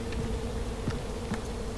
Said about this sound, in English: I hear the bees.